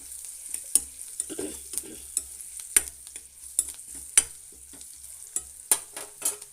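Chopped onions and green chillies frying in a pan for a wedding-style tondekai (ivy gourd) palya, with a soft sizzle broken by repeated clacks of a spatula stirring against the pan.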